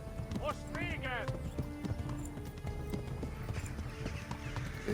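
In the video game Kingdom Come: Deliverance, a horse gallops with steady, rapid clip-clop hoofbeats and a brief whinny. Someone talks over the hoofbeats throughout.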